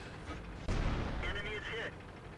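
A Type 62 light tank's main gun firing in World of Tanks, one heavy boom followed by a rumbling engine and battlefield noise, with someone talking over it.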